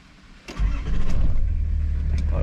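A minibus with an inline six-cylinder engine cranks briefly and catches, settling into a loud, steady, close idle rumble.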